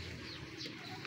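Soft, muffled cooing from a blue bar racing pigeon with white feathers, kept for derby racing, heard close and low under steady background noise for about a second.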